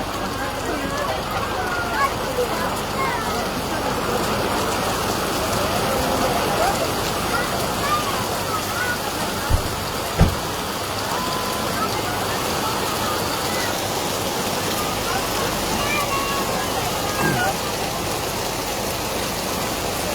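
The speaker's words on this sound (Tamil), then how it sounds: "மழை வந்து ரொம்ப நாளைக்கு அப்புறம் வந்து நல்லா அடிச்சு ஊத்துது" Heavy evening summer rain in the hills of Kodaikanal, a dense, steady hiss of rainfall on surfaces throughout, with a couple of brief knocks and faint voices in the background.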